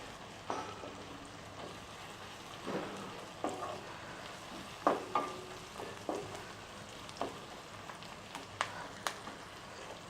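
Crushed ginger, garlic and curry leaves sizzle in hot oil for a prawn gravy, a steady fry with repeated stirring scrapes and soft clinks spaced through it, close and moderate in level.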